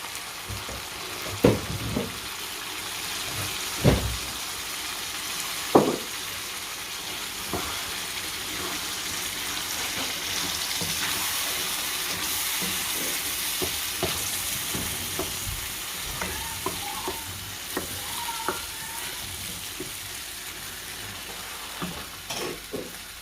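Curry sauce sizzling and frying in a pan for chicken curry, a steady crackling hiss with occasional scraping knocks of the spoon as it is stirred.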